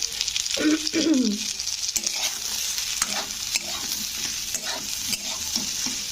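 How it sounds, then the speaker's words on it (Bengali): Raw banana slices fry in ghee in a pan with a continuous bright sizzle, as a spatula stirs and scrapes in repeated strokes close up. "তো হয়ে গেছে এটা আমার কাঁচকলা ভাজা ঘি দিয়ে"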